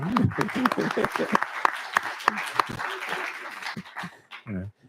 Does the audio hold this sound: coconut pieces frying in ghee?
no